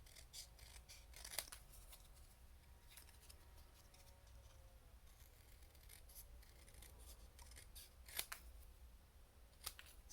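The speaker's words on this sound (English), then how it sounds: "we're going to trim the Merry and the Christmas off." Scissors snip through a paper Christmas sentiment for a handmade card, a few sharp, close cuts spaced out against a quiet room hum.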